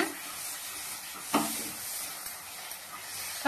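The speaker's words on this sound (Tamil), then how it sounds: "இப்போ எல்லாத்தையும் நல்லா மிக்ஸ் பண்ணி விட்டுக்கோங்க." Sweet potato halwa with cashews and raisins is stirred in a hot pan, a steady soft sizzle and hiss with a brief scraping stroke near the middle.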